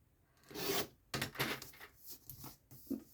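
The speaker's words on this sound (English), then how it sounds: "I'll just trim that one off" Cardstock for a handmade birthday card being trimmed on a paper cutter, a few close, quiet scraping and sliding strokes with small taps and a brief pause between cuts.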